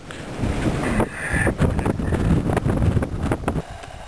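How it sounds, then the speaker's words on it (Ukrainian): Gusty late-winter wind buffeting the microphone in loud, rumbling bursts in cold weather, with a roaring outdoor wash underneath. "Вітер головне."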